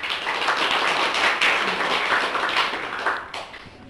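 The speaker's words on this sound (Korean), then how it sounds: "박수로 환영하고 자리에 앉으시기 바랍니다" An audience applauds in welcome at a church ceremony, a dense, steady burst of clapping from many hands that gradually tapers off near the end.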